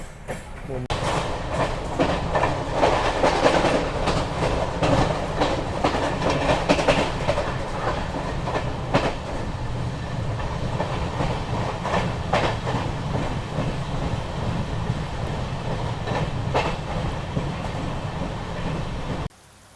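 Konkan Kanya Express running at night out of Panvel, heard from inside as a continuous rumbling roar with rhythmic clickety-clack of wheels over rail joints, steady and close for the whole stretch.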